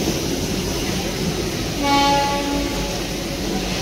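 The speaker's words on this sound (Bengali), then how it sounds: "এই রেল ইঞ্জিনটা গিয়ে ঘুরে এসে উল্টো দিকে জুড়ে আমাদের আবার ব্যাকে নিয়ে যাবে দার্জিলিং।" A Darjeeling railway engine at Ghum station rumbles steadily, then sounds one short, fairly loud horn blast in the middle before the low rumble carries on.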